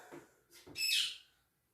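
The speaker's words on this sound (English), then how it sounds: "That's squawking" A single short, shrill bird squawk rising into a high whistle-like screech, close by, after a couple of soft lower sounds.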